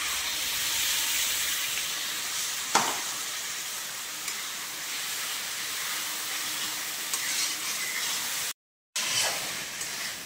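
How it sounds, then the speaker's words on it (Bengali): Mustard, poppy seed and cashew paste sizzling in a pan of frying spices, a steady loud hiss with occasional stirring scrapes and a short break near the end. "এবার আমরা যে পেস্টটা তৈরি করেছি সরষে, পোস্ত আর কাজু, সেটা দিয়ে দেব।"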